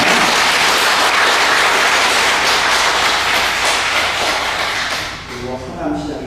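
A congregation at a weekday morning Mass in a Catholic church gives a big round of applause, dense and loud clapping that fades slightly toward the end as a voice begins speaking.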